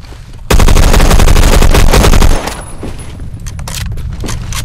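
An FAL PARA rifle in the video game Phantom Forces fires a loud, rapid automatic burst of about two seconds, followed by quieter scattered shots and clatter as the firing breaks off.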